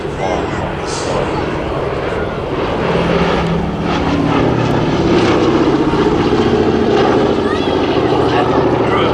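Boeing B-17 Flying Fortress Sally B flying at an air festival, its four piston propeller engines making a loud, steady rumbling drone that swells slightly, with a commentator talking over it.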